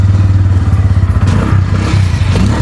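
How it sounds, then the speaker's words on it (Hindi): A Bajaj Pulsar N160 motorcycle engine starts up close by, giving a loud mechanical clatter that settles into a steady, throbbing idle with no talking. "जब आप गाड़ी को स्टार्ट करेंगे, एक बार साउंड सुना देते हैं गाड़ी को स्टार्ट करके किस तरीके से होने वाला है।"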